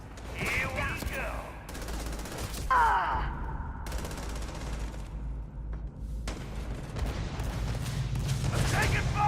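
Video game gunfire rattles almost continuously as rapid, dense bursts and explosive shots, loud and close, with a player's voice talking and groaning over the chaotic firefight.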